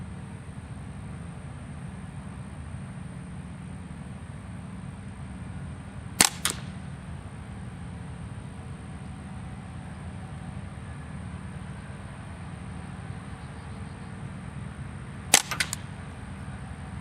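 Ruger 10/22 Tactical rifle with suppressor firing a few shots, two sharp muffled cracks spaced far apart over a steady low background hum.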